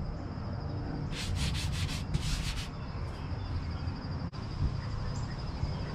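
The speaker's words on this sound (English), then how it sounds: "After you go over your hood with your scuffing pad" A scuffing pad scrubs powder overspray off a pickup's painted hood in two quick bursts of short, raspy back-and-forth strokes, close and crisp, with no talking.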